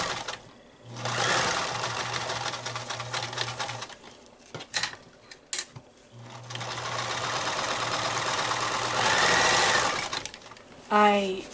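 Sewing machine stitching elastic onto a fabric face mask, running in two sustained bursts of steady whirring with a pause between, with someone talking over it.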